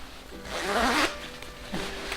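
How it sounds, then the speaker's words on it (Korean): A tracksuit zipper is pulled open in one long rasping stroke, followed by a shorter second pull, close up and fairly quiet. "지퍼를 열면 이렇게"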